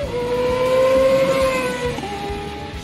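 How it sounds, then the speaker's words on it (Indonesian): A stock Kawasaki ZX-25R engine roars at high revs in one sustained, loud, close wail that holds steady and then eases slightly toward the end, alone without speech. "suara bawaan motor yang meraung kayak gini nih"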